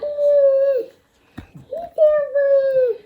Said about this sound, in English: Is that your doggy?